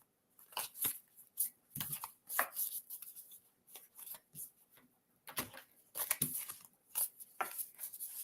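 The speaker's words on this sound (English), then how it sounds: "Elizabeth, let me pull a card for you." A deck of cards is shuffled up close with quick, crisp riffles and rustles in uneven bursts. A card is then drawn from the pile, with no talking over the handling.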